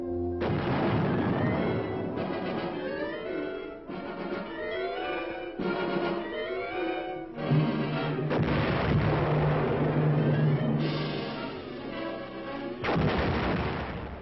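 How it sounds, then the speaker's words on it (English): A 280 mm artillery cannon fires in a series of heavy booming blasts, each a loud broadband crack with a rumbling tail, spaced a second or two apart across a field firing position. "There is the last-minute touch, the final delicate adjustment before a cannon is ready and the order is given to fire."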